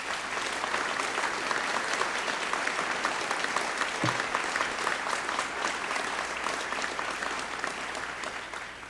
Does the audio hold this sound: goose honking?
no